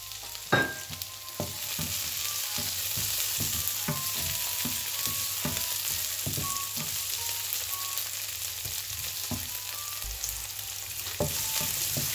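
Onions, capsicum, green chillies and tomatoes sauté in a pan, a steady close sizzle broken by repeated scrapes and knocks of a stirring spoon, with no talking.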